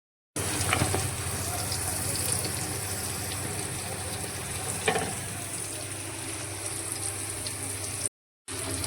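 Masala gravy for a Shravan ghevda bean curry sizzles in oil while a spoon stirs it, a continuous close crackle with occasional scraping accents and a brief cut near the end.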